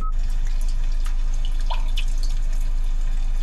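Gentle rain recording played through a 2021 Hyundai Palisade's nature-sounds media system: scattered soft drips and patters over a steady hiss and low hum, continuous and moderately quiet, with no talk.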